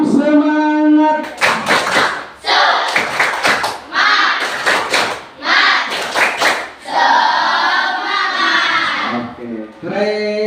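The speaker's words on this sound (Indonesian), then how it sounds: "Tepuk semangat!" Classroom of elementary schoolchildren at SDN Banjaran I Sumberjaya doing the rhythmic 'tepuk semangat' clap: loud, close bursts of group clapping in patterned beats, interleaved with children's chanting voices.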